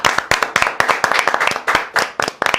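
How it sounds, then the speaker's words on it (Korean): Clapping from a studio group during a live election-night broadcast, a burst of sharp hand claps coming in uneven rhythmic bunches, close and loud with no talk over it. "박수 한번 주세요."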